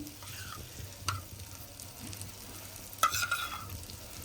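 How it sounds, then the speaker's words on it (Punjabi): Cream is stirred into a masala frying in a pan for a homemade paneer dish, with a quiet steady sizzle and a couple of sharper spoon scrapes against the pan. "ਹੁਣ ਅਸੀਂ ਮਲਾਈ ਨੂੰ ਮਸਾਲੇ ਦੇ ਵਿੱਚ ਮਿਕਸ ਕਰਦੇ ਹਾਂ"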